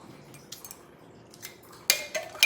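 A metal teaspoon clinks against a baking soda container while a level teaspoon is measured out for banana bread, faint scrapes followed by a few sharper close clinks near the end.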